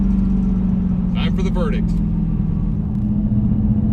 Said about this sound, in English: Car's running good.